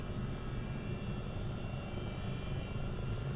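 A Chinook CH-47D twin-rotor helicopter in Microsoft Flight Simulator 2024 drones steadily and loudly with a continuous engine and rotor roar.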